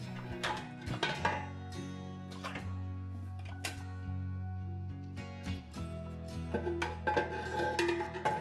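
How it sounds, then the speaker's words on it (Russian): Metal clanks and clinks as a rack of glass jars is set into an autoclave and its heavy lid is closed and secured, with low ringing resonance. "Устанавливаем кассету с банками, закрываем крышкой и фиксируем ее."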